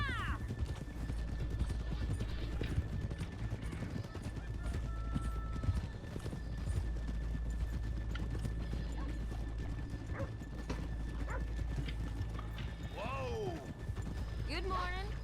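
Steady clip-clop of horse hooves with occasional whinnies and snorts in the video game Red Dead Redemption 2, a continuous busy outdoor scene with some distant voices.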